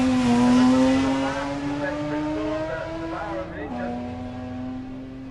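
A Subaru Legacy rally car accelerates hard up a forest sprint course, its engine held at high revs in a loud, rising drone with a quick gear-change dip near the end, while a commentator talks over it.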